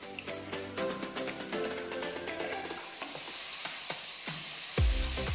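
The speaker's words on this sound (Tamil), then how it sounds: "இப்போ 1 ஸ்பூன் மிளகாய் தூள், தேவையான அளவு உப்பு சேர்த்து நல்லா வதக்கிக்கோங்க." Tomatoes with chilli powder and salt sizzle steadily in a hot pan while a utensil stirs and scrapes, with sharp metallic clinks scattered throughout.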